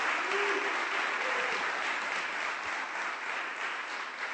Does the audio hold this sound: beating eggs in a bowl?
no